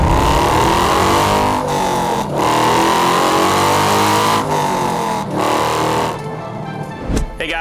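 A Chevrolet Corvette Z06 with a 405-horsepower engine accelerates hard, its loud engine note climbing through the gears with brief dips at each shift, then easing off near the end.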